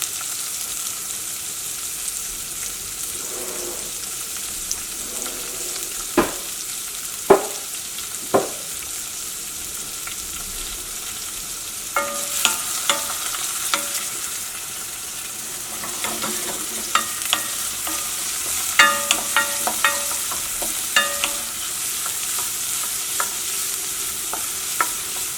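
Crushed garlic, onion, green chilli and curry leaves sautéing in a pan, a soft continuous sizzle broken by sharp clinks and scrapes of a spoon stirring against the metal, with no talking.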